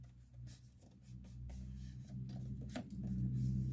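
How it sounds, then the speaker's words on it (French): A paper card's central fold is creased by hand, giving faint dry rubbing and scraping strokes in short repeated passes against a quiet room background. "on va bien marquer ici le pli central"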